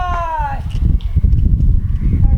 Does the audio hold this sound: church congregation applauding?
no